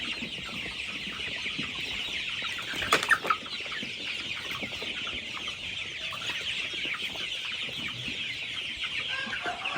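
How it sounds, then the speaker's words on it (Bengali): Coloured broiler chickens, forty days old and raised for meat, cluck and chatter continuously on a farm in a dense steady din, with a brief burst of wing flapping near the middle. "তো আপনাদের দোয়ায় আমার মুরগিগুলো সুস্থ আছে"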